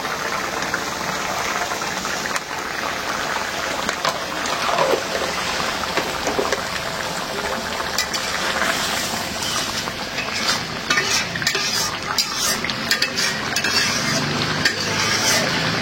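Stinging catfish curry simmering in a village kitchen just after cumin powder goes in, a steady close bubbling hiss with occasional scraping stir strokes, continuous throughout with no talk.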